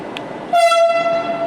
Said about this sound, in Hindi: मेट्रो आ गया तो मेरे को फ़र्क नहीं पड़ रहा